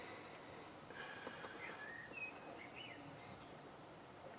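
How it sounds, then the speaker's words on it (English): Birds chirp faintly outside an open window, a few thin scattered tweets over quiet room background and distant outdoor hush. "It's mainly birds, but it could be a car or something."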